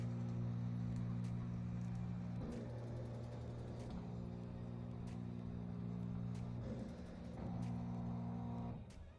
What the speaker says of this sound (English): my machine will start to trace the area that is going to be embroidered